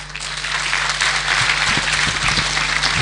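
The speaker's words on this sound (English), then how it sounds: "Let's give him a round of applause" Sustained applause fills a graduation ceremony at Machakos University, a dense, steady wash of clapping from a large crowd throughout, with faint low thumps near the end.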